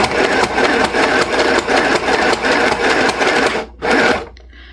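A small travel sewing machine stitches fabric with a loud, fast, steady mechanical whir and rhythmic needle chatter. It stops briefly, gives one more short burst, then goes quiet.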